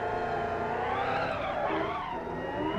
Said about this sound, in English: I'm gonna attempt a J-turn